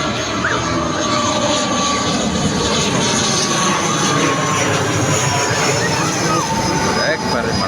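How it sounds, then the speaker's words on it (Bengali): A landing airplane passes low overhead near Patenga, Chittagong, its loud jet roar steady and broadband throughout without fading, with faint voices mixed underneath. "এই যে বিমান ল্যান্ডিং করবে মাথার উপর দিয়ে যাচ্ছে বিমানটা"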